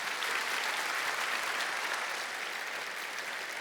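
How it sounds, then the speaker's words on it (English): A church audience gives students a sustained round of applause, with dense, even clapping that holds steady across the whole stretch. "would you give these students a round of applause?"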